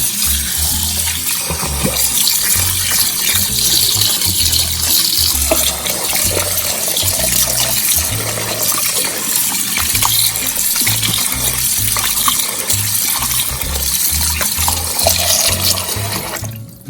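Steady running water splashes continuously as mutton liver is rinsed under a tap, loud and close, with no talking.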